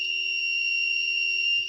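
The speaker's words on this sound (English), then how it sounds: "the beeper is the problem" Beeper in a MOSFET presence-sensor circuit built around a 2N7002, giving one steady, shrill, continuous electronic tone held for the whole stretch without a break, close and loud.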